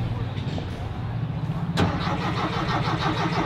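A 1961 Chevrolet Impala wagon with a weak battery cranks, its starter giving a slow, labored rhythmic churn that grows louder partway through, while people talk nearby.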